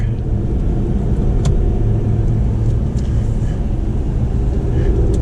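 Dodge Ram TRX truck braking and powering through tight winding turns, a steady loud low engine and road rumble running throughout with no break.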